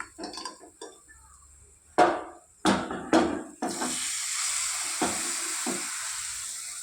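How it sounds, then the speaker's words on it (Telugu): Dry red chillies and curry leaves in a hot oil tempering poured into a chutney, bursting into a loud, steady sizzle after several sharp clanks of a pan and spoon. "ఈ పోపుని చట్నీలో వేద్దామండి"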